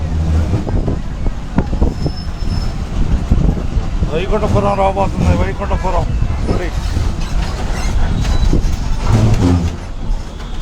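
A Cherukupalli-bound passenger bus from Tenali travels along the road, its engine droning continuously beneath people talking on board.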